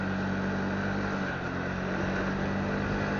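Motorboat engine drones steadily and loudly in Marmaris harbour, a continuous unbroken hum with wind rushing across the microphone and no speech.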